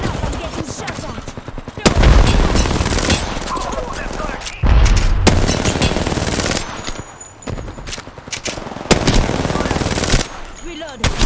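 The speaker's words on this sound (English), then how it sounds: "Listen up, I'm getting shot at." Rapid bursts of automatic gunfire in the video game Apex Legends, loud and close, coming in several sharp volleys with brief gaps between them.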